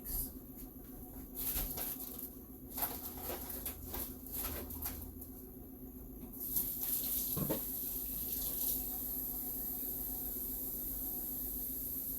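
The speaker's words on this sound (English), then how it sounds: "first I gotta water this down, and then I'm gonna add net mix" Potting soil for indoor planting is watered down. Running water splashes in uneven bursts for the first several seconds, then settles into a quieter, steady hiss, with no speech.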